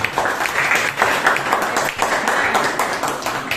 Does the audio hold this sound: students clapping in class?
yes